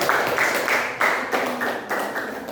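A class applauds a student group after its presentation in a teaching-practice session, a short burst of clapping in rhythmic pulses, close and moderately loud.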